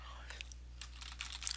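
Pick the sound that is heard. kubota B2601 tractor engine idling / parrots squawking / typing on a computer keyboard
typing on a computer keyboard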